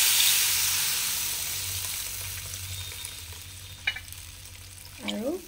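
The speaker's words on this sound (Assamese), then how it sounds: "এতিয়া পানী দি দিওঁ" Water is poured into a hot pan of Assamese sour fish curry with elephant apple pieces. A loud hiss and sizzle flares up at once and slowly dies down, followed by a couple of clinks from a spoon near the end.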